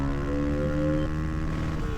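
A motorcycle with a new exhaust holds a strained, buzzing engine note near the red line, a steady loud drone with a slight pitch wobble over two seconds and no talking.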